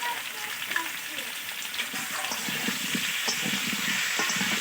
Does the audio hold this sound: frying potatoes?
yes